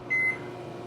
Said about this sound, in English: I want to cook them with the microwave for 1 minute.